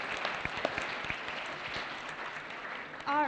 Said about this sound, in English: one more round of applause for all of our models and all of our contestants tonight